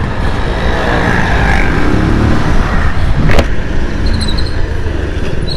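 A motorcycle rides through city traffic as a loud, continuous roar of engine and road noise, with a brief sharp sound in the middle and faint horns or tones near the end.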